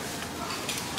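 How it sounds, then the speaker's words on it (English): Food being stirred in a pan over steady sizzling, a short, dense burst of scraping and frying noise. "You can stir it more, stir it evenly."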